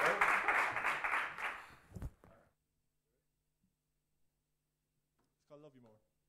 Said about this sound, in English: So give them a big round of applause, ladies and gentlemen.